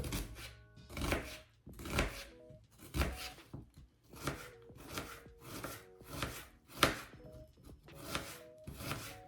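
A knife dices 250 grams of onion on a cutting board for a zucchini, carrot and pepper salad: soft, rhythmic slicing strokes in regular bursts less than a second apart, quiet and close.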